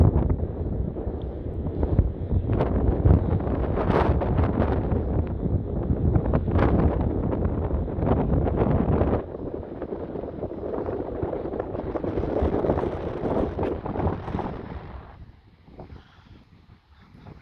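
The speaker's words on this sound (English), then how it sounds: "Very windy again." Strong wind gusts roar across the microphone on a beach at Corralejo, Fuerteventura, a loud, continuous rushing buffet that surges and eases before dropping near the end, with no talk.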